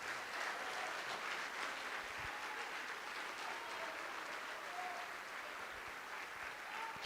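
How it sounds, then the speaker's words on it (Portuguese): A church congregation applauds steadily throughout, a dense sustained patter of many hands clapping, with no one speaking over it. "Vamos aplaudir ao nome de Jesus."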